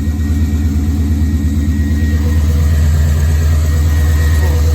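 An old car that has been sitting for a long time, with an idle problem, runs loudly up close with a deep, rough, uneven idle that stays steady throughout.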